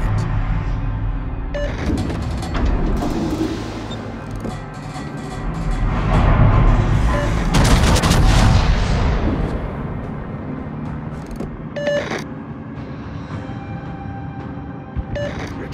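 Naval artillery fire from a World of Warships battleship, the Montana, shelling a designated target: a swelling, rumbling roar of distant salvos builds and fades amid steady ship and engine noise, with brief radio-style voice callouts.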